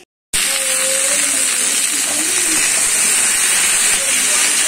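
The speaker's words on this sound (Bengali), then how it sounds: "এদিকে ভাত ফুটছে" Rice boiling in a pot on a home kitchen stove gives a steady, loud bubbling hiss that holds evenly from start to end, with faint voice-like murmurs underneath.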